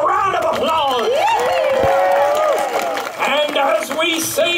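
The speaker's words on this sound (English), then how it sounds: "Give yourselves a round of applause." A crowd at a 100th-anniversary time capsule ceremony at Knott's Berry Farm applauds and cheers, with whoops and excited voices rising over a steady wash of clapping that carries on throughout.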